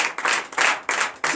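A church congregation at a morning prayer service in Benin claps in acclamation, loud rhythmic bursts of applause arriving in four waves with brief pauses between them.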